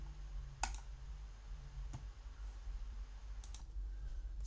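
A computer mouse gives a few separate, crisp clicks, two of them quickly paired near the end, over a quiet room hum with no speech.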